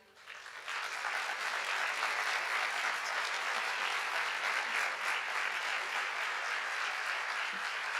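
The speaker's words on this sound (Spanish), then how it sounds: "Quiero que ese aplauso sea para el doctor Oscar Fay." A large crowd bursts into sustained applause, dense and even clapping that holds steady for several seconds without pause.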